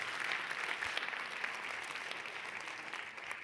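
An audience at a lecture on happiness and society claps in a steady, even wash of many hands, heard at a moderate distance without speech and slowly tapering toward the end.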